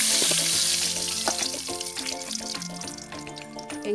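Oil and ground fennel (sombu) frying in a kadai, a loud dense crackling sizzle that holds steady across the whole clip, with faint tonal hum from the kitchen underneath.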